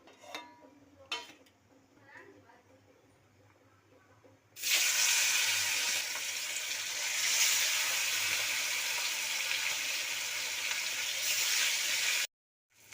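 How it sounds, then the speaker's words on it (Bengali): Pieces of catla fish hit hot oil in a wok and a loud, steady sizzle bursts up after a few quiet seconds, roaring on close by and then cutting off abruptly. "তেলটা গরম হয়ে গেছে, এরপরে মাছটাকে ভেজে নেব।"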